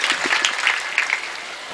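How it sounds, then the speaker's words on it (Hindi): Loud applause from a mushaira audience honoring the poet Manzar Bhopali in Islam Nagar, Badaun, a short dense burst of clapping with faint voices mixed in. "एक बार अपनी मौजूदगी का सबूत जोरदार तालियों के साथ।"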